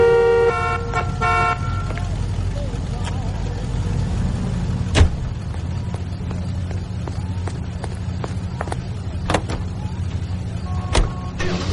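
A car drives in the video game LA Noire, a steady low engine drone running throughout with occasional clicks and thumps, close and even in level.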